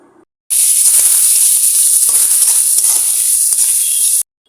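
Dried fish (shutki) frying with spices in a pan, a loud, steady sizzle and hiss that starts abruptly, runs unbroken for about four seconds with faint stirring scrapes, then cuts off.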